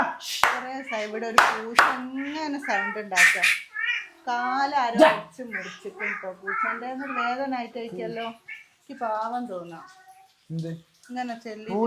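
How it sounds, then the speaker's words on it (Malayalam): A cat meows several times close by, mixed with children and adults talking and a few sharp claps or knocks. "ഒരു പൂച്ച"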